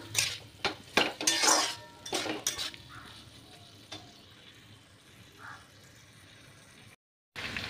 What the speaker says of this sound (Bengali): এবার আলুটা দিয়ে এই গ্রেভিটা দিয়ে খুব ভালো করে একটু মাখিয়ে নেব